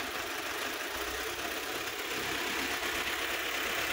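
A GAZelle refrigerator truck engine runs steadily just after starting, with a continuous, close idling rumble and rattle that holds level throughout, and no talk.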